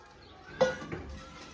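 A spoon knocks once against a bowl, then scrapes softly while potato and spinach pakora batter with besan is mixed, a close but quiet clink followed by a fainter stir.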